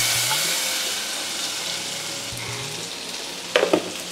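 Masala frying in oil for a tamarind kuzhambu (curry) hisses and sizzles steadily, then tamarind water is poured in, with a short louder burst of spattering and bubbling near the end.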